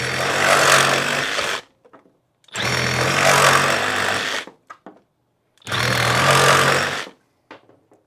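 A Bauer 20 volt one-hand reciprocating saw cuts through PVC in three loud, close bursts of buzzing, each about a second and a half long, separated by short pauses with faint handling clicks.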